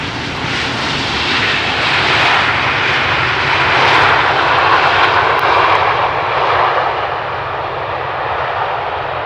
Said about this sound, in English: land right here is a Boeing 737-800. It is from Transavia, coming in from Reykjavik in Iceland, passing us at high speed